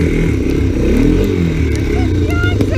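A three-wheeled ATC all-terrain cycle rides through snow during a winter snowstorm camping trip, its engine droning and revving continuously up close, with voices and brief chatter over it.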